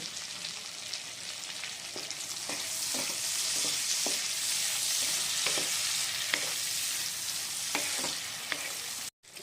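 Sliced tomatoes fry in mustard masala in a pan, giving a loud continuous sizzle with regular clicks and scrapes of stirring throughout.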